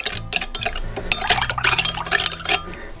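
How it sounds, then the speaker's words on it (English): Yeast being stirred into sugar water in a bowl for a spiced fruit loaf, a close spoon scraping and clinking against the dish in a steady rhythm over a faint liquid swirl. "then we'll add our yeast and give it another bit of a stir"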